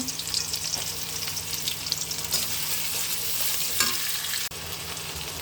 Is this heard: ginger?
yes